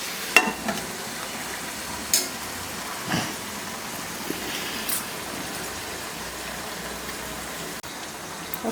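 An egg, drumstick and spring onion curry sizzling under a lid in a covered pan, a steady soft crackle and hiss with occasional faint clinks, fairly quiet and without talk.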